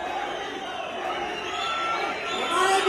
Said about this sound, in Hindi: मोदी जी का जोरदार स्वागत करते हैं, तालियां बजती रहनी चाहिए